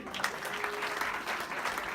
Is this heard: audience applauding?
yes